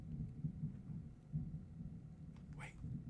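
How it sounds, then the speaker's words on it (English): Distant thunder rolls as a faint, low, continuous rumble, with a person's voice briefly audible near the end. "thunder. Listen."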